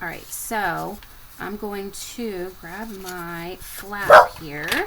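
A dog barks and yips several times in quick bursts, loud and close, alternating with a person talking nearby in a home craft setting.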